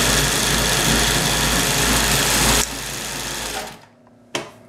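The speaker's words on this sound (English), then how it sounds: "That's a vintage clutch motor on a Pfaff 138." A vintage clutch motor drives a Pfaff 138 sewing machine, humming and whirring loudly and steadily, then dropping in speed and winding down to near silence before a short final burst.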